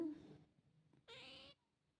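A single short cat meow, fairly soft, follows a brief murmur in an otherwise quiet room.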